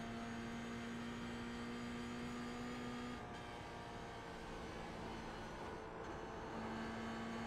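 A Toyota GR86 race car in the iRacing sim holds a steady, droning engine note at full throttle. Its pitch sits fairly constant and it runs loud and continuous with no talking.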